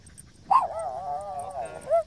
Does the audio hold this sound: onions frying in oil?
no